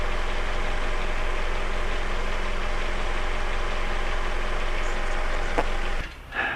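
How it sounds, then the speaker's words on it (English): A car engine idles with a massive vacuum leak, a steady, slightly rough drone that runs evenly before stumbling and dropping out near the end as it nearly stalls. "going to kill the engine with the massive vacuum leak that we're going to get"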